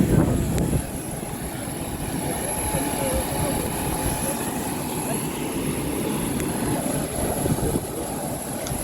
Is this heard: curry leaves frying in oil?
no